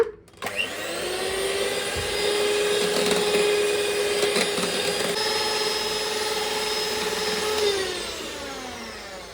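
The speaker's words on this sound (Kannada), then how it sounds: "ಒಂದು 3 to 4 ಮಿನಿಟ್ಸ್ ಮತ್ತೆ ಬ್ಲೆಂಡ್ ಮಾಡೋಣ" An electric blender whirs steadily through a vanilla ice cream mixture, its motor whine spinning up at the start, holding loud and even for several seconds, then winding down near the end.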